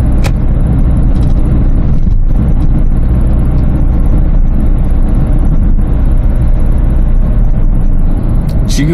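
A Kia Grand Carnival minivan drives along with its engine running, giving a steady, loud low rumble of engine and road noise that lasts throughout, with no talk over it.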